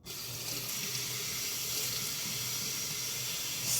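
Tap water runs steadily over broccoli sprouts being rinsed, a continuous close hiss and splash with a slight surge at the end.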